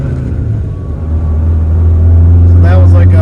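A car fitted with an aftermarket HPS intake pipe pulls uphill, its engine rumbling steadily and building as it accelerates through a gear shift around 4,500 RPM, loud and close throughout.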